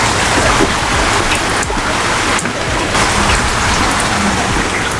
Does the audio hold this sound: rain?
yes